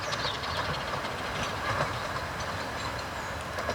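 A train on the Ravenglass and Eskdale Railway rumbles past close by, a steady dense roar with faint rhythmic clatter running throughout, no voices.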